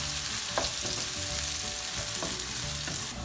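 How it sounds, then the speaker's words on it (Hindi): Onions frying in a pan on the way to golden brown for a matar keema, a steady close sizzle broken by a few brief scraping stirs of the spoon. "अभी इसमें डालेंगे ऑनियन, प्याज और इसको तब तक चलाएंगे जब तक ये गोल्डन ब्राउन हो जाते हैं"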